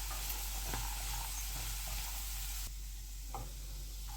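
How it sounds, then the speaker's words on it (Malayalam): Chopped carrot stirred in a frying pan over a medium flame for a Kerala-style carrot thoran, a steady close sizzle with a few soft scrapes of the spoon against the pan. "നമുക്ക് ക്യാരറ്റ് ഇതുമായിട്ടൊന്ന് മിക്സ് ചെയ്തെടുക്കാം"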